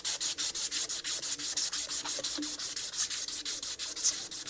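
Fine 1200-grit sandpaper rubs rust off the metal of a Yamaha YJ2 Campus 60 scooter in quick, steady back-and-forth strokes, a close, even scratchy rasp repeating about five times a second with no voices.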